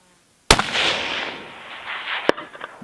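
A .308 rifle fires at a target 1050 yards away: one loud sharp crack with a decaying echo rolling out, then a second faint sharp snap about two seconds later as the bullet strikes.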